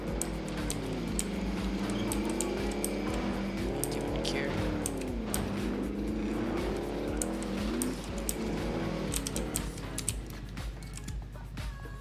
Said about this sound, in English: I'm just gonna straight up drive up to it.